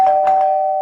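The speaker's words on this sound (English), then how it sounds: "What kind of inconsiderate jackass would ring the bell at this hour?" A doorbell rings with a steady sustained electronic tone, near and fairly loud, with a few soft chime-like pulses over its first half and no talking.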